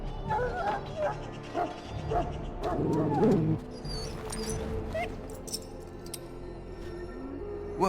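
A dog in the video game Dragon Age Origins whimpers and yelps in a series of high, wavering whines, with short barks around them, close and fairly loud over a low background.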